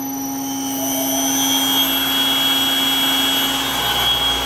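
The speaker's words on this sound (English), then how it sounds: "so we're going to hit spindle on" The spindle of a PM727M CNC mill spins up and runs at a steady speed, a continuous close whine with a faint high tone under a broad airy hiss, and no voices.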